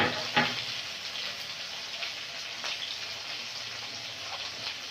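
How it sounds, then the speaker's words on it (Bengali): Spice masala with cumin paste frying in a pan, a soft steady sizzle with a sharp tap near the start and a few faint scrapes, fairly quiet and close, with no voices. "জিরে বাটা দিয়ে মশলাটা ভালো করে কষে নেব"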